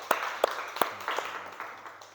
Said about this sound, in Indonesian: Boleh tepuk tangan anak-anak.